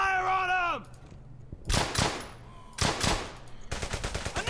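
Gunfire in the WWII shooter Brothers in Arms: Hell's Highway: loud, close bursts of automatic fire in three clusters, the last a rapid rattling string, between quieter stretches of game ambience.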